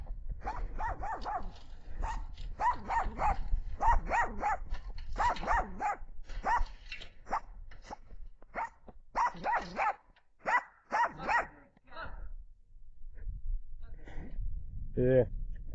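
A dog at a lake bed at Lake of the Ozarks barks and grumbles in short bursts, mixed in with people talking throughout, fairly near and moderately loud.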